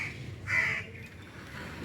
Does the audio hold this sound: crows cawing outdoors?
yes